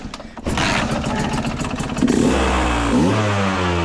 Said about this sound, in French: Démarre la moto de bâtard. Attention, je la démarre.